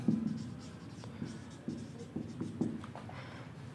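Chalk or marker scratches across a classroom board in short bursts of strokes, close and fairly quiet, with brief pauses between the written words.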